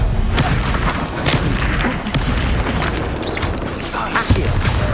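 Expulso spell explosions in Hogwarts Legacy, dense booming blasts and crashes layered over a loud continuous roar of combat.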